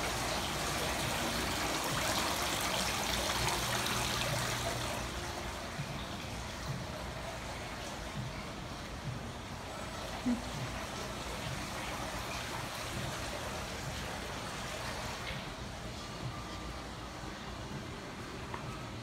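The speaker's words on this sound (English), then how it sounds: "waterfall." Indoor waterfall on a vacation in Fort Erie, Canada: a steady broadband rush of falling water fills the whole stretch, louder at the start and then continuing evenly, with faint voices under it.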